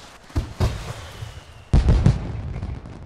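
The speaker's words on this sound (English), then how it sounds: "The jokester has won, so we got some yellow fireworks here." Yellow fireworks bursting in The Sims 4 video game as a prize celebration: a couple of sharp pops followed by a louder, rumbling crackling burst against a quiet ambient background.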